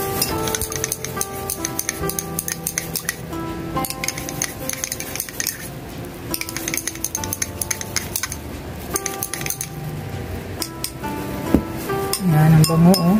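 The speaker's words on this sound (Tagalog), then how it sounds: "Haluin lang natin ang haluin." A spoon clinks and scrapes steadily in a container while homemade liniment with mineral oil is stirred, a busy close metallic rattle running throughout, with a voice speaking at times.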